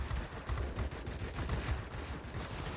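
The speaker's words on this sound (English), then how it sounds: "You have 4 20mm cannons." Four 20mm aircraft cannons fire in a video game, producing a dense, continuous stream of rapid thudding shots with a low rumble, steady and moderately loud for several seconds.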